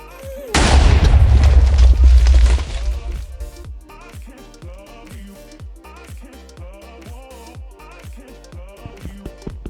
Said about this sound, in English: That's exploding.